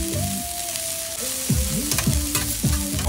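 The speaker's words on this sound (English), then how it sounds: "next we're gonna fry our onions and jalapenos" Onions and jalapenos frying on a Blackstone griddle, a steady sizzle partly covered by tonal music with sliding notes.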